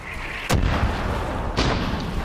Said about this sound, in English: I hear sniper shots zipping